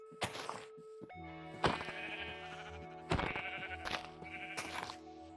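Sheep in Minecraft bleating in four or five distinct, loud, wavering calls spread evenly, with no talking, over a steady low game backdrop.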